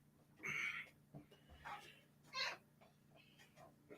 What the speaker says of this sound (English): Got a crying kitty.